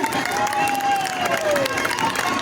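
An amusement park audience at a costume show keeps up steady, dense applause and crowd noise at an even level throughout, with a faint tonal whistle or squeal sliding through the middle.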